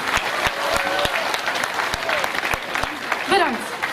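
An audience at the Dedemsvaria 2014 event claps in steady, continuous applause that stays loud throughout with no voices on top.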